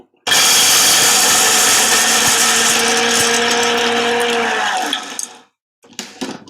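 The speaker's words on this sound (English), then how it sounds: "I put it upside down on my food processor and press, you know, go" A food processor grinds cashew nuts into flour in one loud, continuous whir of about five seconds, then spins down and stops, followed by a brief faint rattle.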